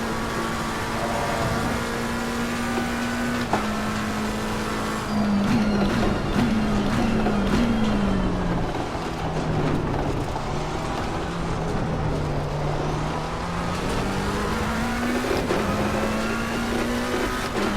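A McLaren 720S GT3 race car engine drones steadily through a lap in Assetto Corsa Competizione, pitch climbing and dropping through gear changes and braking, loud and continuous with no talking.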